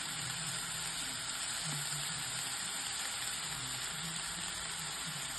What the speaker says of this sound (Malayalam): ഇനി നമുക്ക് ഇതിനകത്തോട്ട് മസാല ചേർത്ത് കൊടുക്കാം